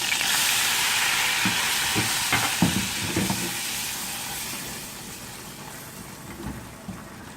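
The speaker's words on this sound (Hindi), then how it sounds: "और बस हम इसे हल्का सा 1 मिनट तक ही भुनेंगे" Flour roasts in about three tablespoons of butter in a pan, giving a soft, steady frying hiss with a few light stirring clicks, fading somewhat toward the end, with no talking.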